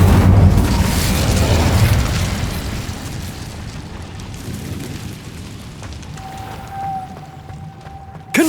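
Incendio fire spell cast in the Hogwarts Legacy video game, a heavy, roaring blast with deep rumble that swells at once and slowly dies away, followed by a thin ringing tone and a sharp final burst.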